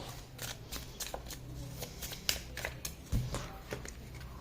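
A deck of playing cards is shuffled and cut, giving repeated crisp riffling flicks and soft card slaps at close range, with a low thump near the end and no talking.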